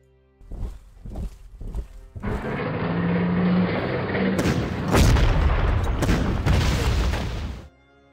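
Attack on an anti-tank gun in the Panzer Corps strategy game, set in the Poland campaign: a few quick thuds and shots, then a sustained loud rumbling barrage of gunfire and explosions lasting several seconds before it cuts off.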